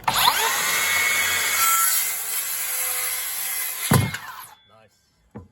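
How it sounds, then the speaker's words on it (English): Cordless Makita 40V XGT circular saw with a 185 mm blade cutting through wood: a loud sustained whine and rasp for about four seconds, a brief burst as the cut ends, then the motor winds down to near quiet. "so this first cut for XGT. Size blade 185 mm."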